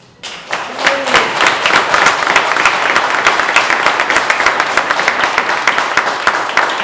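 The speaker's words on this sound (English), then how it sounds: "I just wanted to give a round of applause to Tawny" Audience at a Startup Grind Toronto business talk breaks into a sustained round of applause, dense steady clapping from a crowd that swells in quickly and holds at full strength throughout.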